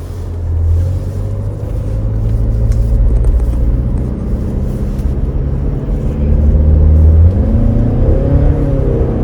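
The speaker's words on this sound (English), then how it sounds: "the engine is still running" A second-generation Lexus NX engine idles steadily in cold weather with a low droning hum, rising briefly in pitch near the end as it revs slightly; no voices.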